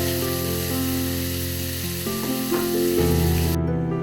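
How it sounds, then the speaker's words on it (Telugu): Onions frying in oil in a pan for a Gorakala fish curry, a steady close sizzle running throughout with a louder surge of hissing near the end. "ఇప్పుడు ఉల్లిపాయలు వేయించుకోవడానికి కొంచెం ఆయిల్ వేసుకుంటున్నానండి."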